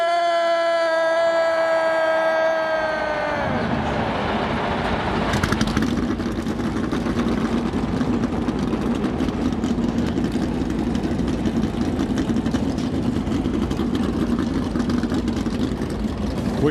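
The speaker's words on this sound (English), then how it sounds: "drivers, start your engine!" Stock car engines at the 2024 Daytona 500 fire up together as a loud, sustained engine roar with a steady rumble. It replaces a sung or announced tone at the start and carries on strongly to the end.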